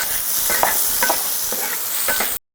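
Bamboo shoots and bean sprouts stir-fry in a hot wok: a continuous close sizzle broken by repeated bursts of stirring and tossing, which cuts off abruptly at the end.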